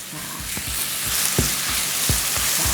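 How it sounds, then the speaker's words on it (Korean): Minced garlic and chopped green onion stir-frying in oil in a home kitchen pan, a steady close sizzle with occasional soft scrapes of stirring, no talking. "미리 준비한 다진 마늘, 다진 파를 놓고, 놓고 향이 살살살살 올라올 때까지 볶아주시면 됩니다."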